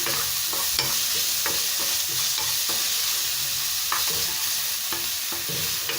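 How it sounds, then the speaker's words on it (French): Onions sautéing in a tablespoon of hot oil in a frying pan, a steady close sizzle with repeated scrapes and clinks of stirring throughout, no voices. "Je vais chauffer l'huile, donc c'est une cuillère à soupe d'huile. Donc je fais revenir les oignons."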